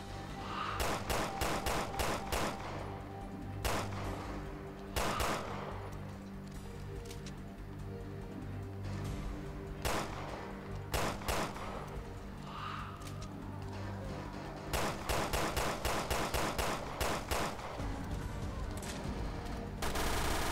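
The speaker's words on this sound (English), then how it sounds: "that gun is highly inaccurate" Repeated gunfire in Resident Evil Revelations 2 on Xbox One, sharp loud shots in clusters and rapid runs across the whole stretch over a steady game background hum.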